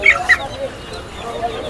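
Colombian Brahma chickens cluck at a busy poultry market, giving two short, sharp calls up close before low chatter and background murmur take over.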